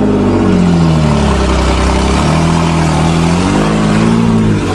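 A 1986 Nissan 4x4 truck engine runs loud and steady as the truck drives off in gear, its mid-pitched drone rising and falling with throttle through the whole stretch, no voices over it.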